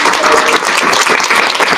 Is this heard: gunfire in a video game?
no